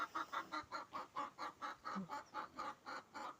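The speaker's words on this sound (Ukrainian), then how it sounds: "Дуже говорливі кури." A hen clucks in a steady, rhythmic series of short calls, about four per second, close and clear with no other voices.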